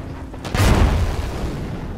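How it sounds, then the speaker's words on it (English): A high-explosive shell from a T-62 tank gun bursts in Armored Warfare, one loud deep boom with a rumbling tail that fades slowly, no talk over it. "he was firing HE shells"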